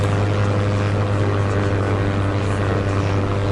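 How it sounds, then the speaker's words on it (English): Enemy WWII bombers attacking a British destroyer at sea give off a steady, loud propeller-engine drone that holds unbroken throughout, with no voices. "Suddenly, the droning whine of enemy bombers pierces the wind."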